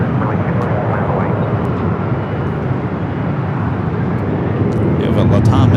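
A Delta airliner takes off from runway 24 left at Los Angeles International Airport, its engine roar steady and loud at first, then a rising, rushing swell toward the end.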